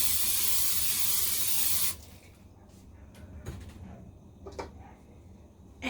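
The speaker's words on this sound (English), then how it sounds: "So I'm just going to put some spray." A can of cooking spray hisses loudly into a small pancake pan for honey butter corn pancakes, one continuous burst of about two seconds, followed by quiet clicks and light clatter.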